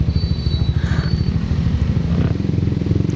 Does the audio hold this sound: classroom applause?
no